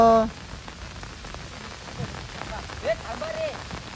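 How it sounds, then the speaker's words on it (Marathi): Steady monsoon rain patters on outdoor surfaces as a close hiss, broken by a few short tonal blips and faint voices in the background. "आजच पाऊस पडलाय"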